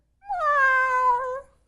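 A single drawn-out meow voiced by a person imitating a cat during a children's story reading, clear, close and tonal, rising then sliding down before trailing off.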